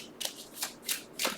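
Zodiac fortune telling cards are shuffled by hand in four quick, crisp riffling bursts, close and fairly quiet.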